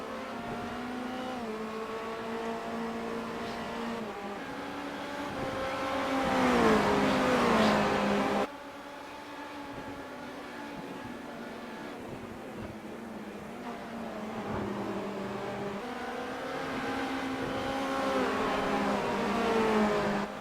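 Race car engines drone and rise in pitch as the cars accelerate and shift gears around Silverstone in the iRacing sim racing game, a loud, steady roar for about twenty seconds with a sudden cut midway.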